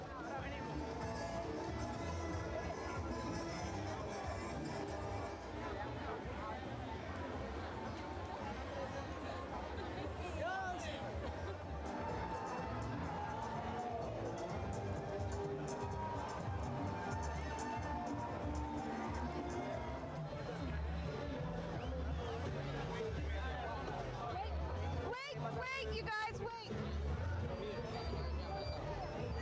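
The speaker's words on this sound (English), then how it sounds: "We've got a serious crowd out here." A large outdoor crowd of fans in Panama City, a dense continuous hubbub of chatter and excited voices throughout, with one voice calling out over the noise near the start.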